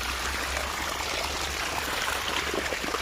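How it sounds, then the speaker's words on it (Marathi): Steady rushing and trickling of irrigation water pouring from a spout onto a sugarcane field, continuous and close, with no voices. "तोट्याने पाणी सोडायचं चालू केलं"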